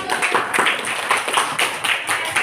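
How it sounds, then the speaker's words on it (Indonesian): A small group claps in an irregular, moderately loud burst of applause for a classroom group that continues throughout. "Oke, bagus, tepuk tangan buat kelompok 1."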